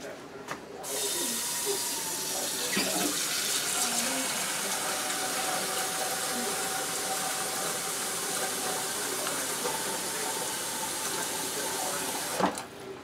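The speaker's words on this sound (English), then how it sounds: "I'm gonna fill up the pot to as much as I think it needs." Tap water runs steadily into a cooking pot being filled for a double boiler used in candle making, a continuous rushing splash close by with a few clanks at the start and end.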